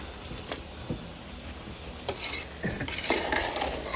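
Jaggery rice being stirred and mixed in a pot, with utensil scrapes and clinks against the metal over a soft sizzle, irregular strokes building busier toward the end, close and without talk.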